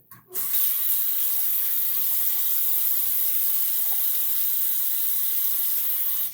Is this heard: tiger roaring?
no